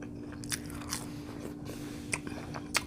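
Close, quiet bites and chewing of air-fried fries that aren't very crunchy, a few soft crunches spaced out against a low steady background.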